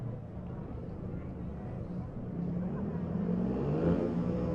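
Race cars on the Kern County dirt track, a continuous engine drone that swells slightly as the cars come closer, with a voice talking over it.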